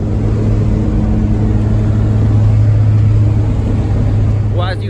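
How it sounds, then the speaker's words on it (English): A modified Toyota Supra MK4 engine on a dyno gives a loud, sustained, droning hum at a steady pitch that fills the whole stretch, with a brief voice near the end. "as you guys can see and probably hear in the background, the car is on dyno"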